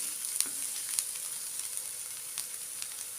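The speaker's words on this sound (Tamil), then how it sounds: "ஸ்டவ்வை மீடியம் ஃப்ளேம்லேயே வச்சுக்கலாம் சிம்மில் வைக்க வேண்டிய அவசியம் இல்லை நல்லா வதங்கி வரட்டும்" Onions sauté in a pan over a medium flame while a ragi mushroom soup is prepared, a soft steady sizzle with a few faint clicks of stirring, fairly quiet and without talk.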